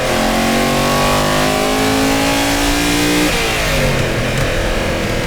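Loud, sustained revving from a Lamborghini Urraco P250's 2.5-litre V8 engine, the rising whine peaking then shifting down into a gravelly, throbbing roar.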